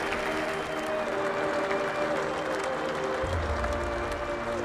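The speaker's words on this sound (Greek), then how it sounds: "Και φυσικά όλοι χειροκροτούν." An audience applauding at an Acropolis Rally event, dense continuous clapping from a crowd, steady and moderately loud throughout with no gaps.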